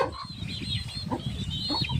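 Hen in a chicken shed clucking, a quick, close series of short throaty clucks and squawks over a rough, busy background, with no talking.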